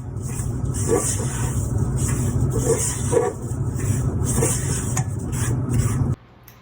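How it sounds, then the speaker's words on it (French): A spoon scrapes and stirs a sticky coconut and sugar mixture continuously around a saucepan over a steady low hum, with faint clinks of metal against the pan. "On mélange sans cesse afin d'éviter que cela colle au fond de la casserole."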